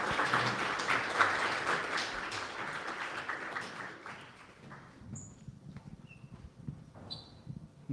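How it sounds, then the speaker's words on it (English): Audience clapping for a speaker at a developer meetup: dense, close applause that gradually thins and fades out, leaving faint scattered claps and a few chirps behind. "Let's give Emily a round of applause."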